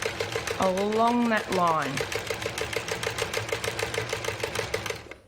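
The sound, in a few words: old mechanical sewing machine stitching along a line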